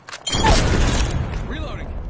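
Frag grenade blast in the video game Apex Legends, one deep booming burst that rolls off over a couple of seconds, loud and close, with a voice talking over it.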